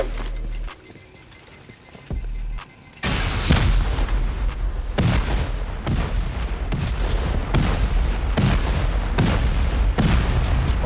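Rockets and C4 charges blasting a base wall in a survival video game, a quiet stretch with a faint beeping then a heavy run of loud, repeated explosions booming one after another.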